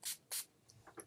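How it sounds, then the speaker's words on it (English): A face mist bottle gives two quick, soft sprays, close and quiet, followed by faint rustling. "I'm just going to spray my face real quick"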